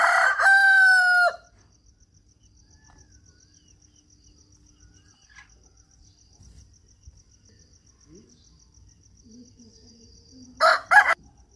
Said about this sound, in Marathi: पहाटेचा कोंबडा कसा बाग देतोय बघा.